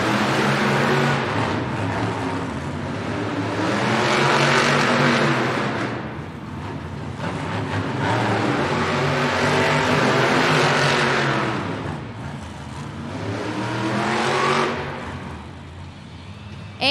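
Monster trucks race on dirt in a stadium event in Helsinki, Finland, engines swelling in loud waves of revving and roaring, fading and surging again as they pass, with a crowd-like wash beneath.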